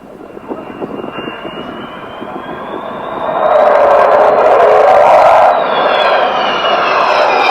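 An Avro Vulcan jet bomber's engines build from a distant rumble into a loud, sustained roar with a rising whine, swelling as it passes close overhead and then easing slightly.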